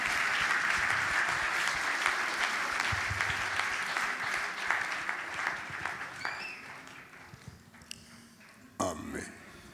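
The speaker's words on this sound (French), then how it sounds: "Quelqu'un acclame le Seigneur." A church congregation applauds and cheers to acclaim the Lord, dense clapping and voices sustained for several seconds before thinning out, with a louder burst near the end.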